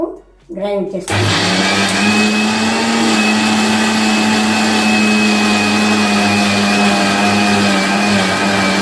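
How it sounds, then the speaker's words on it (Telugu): A kitchen mixer grinder grinds soaked urad dal with a little water for idli batter. After a brief clatter it starts up and holds a loud, steady motor whine close by. "ఇప్పుడు మినపప్పు గ్రైండ్ చేసుకోవాలి."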